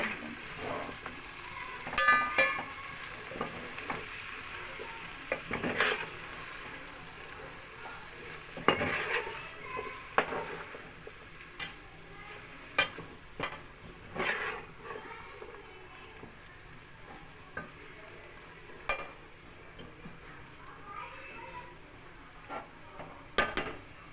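Sliced mushrooms frying in a pan while being stirred, a soft steady sizzle broken by irregular scraping and clinking of a spoon against the pan, moderately faint, with no one talking.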